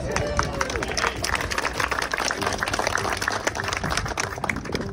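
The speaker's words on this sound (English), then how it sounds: "Let's just give the views a round of applause." An outdoor crowd at a ribbon cutting ceremony for Murphy's Farm Apartments in Morganton claps steadily, dense scattered hand claps with some murmur of voices mixed in.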